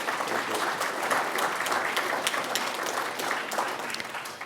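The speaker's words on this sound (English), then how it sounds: "Yes, round of applause." Crowd applause at a First Nations finance authority AGM member forum, a dense continuous burst of clapping lasting a few seconds at moderate level.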